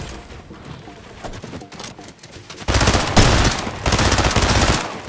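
Rapid bursts of automatic gunfire in a Fortnite-style shooter game, loud and sustained with heavier volleys in the second half, over a busy game soundscape.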